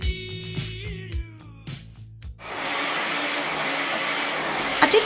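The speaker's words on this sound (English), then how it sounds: "I did find it quite a noisy machine" A VAX Platinum PowerMax carpet cleaner starts up after a short stretch of music, then gives a loud, steady, broadband whirring roar that holds to the end.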